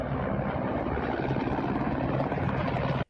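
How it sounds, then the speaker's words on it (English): Russian military helicopters flying overhead, a steady loud rotor drone with constant chopping throb that holds evenly for a few seconds, then cuts off abruptly. "Here's some Russian choppers."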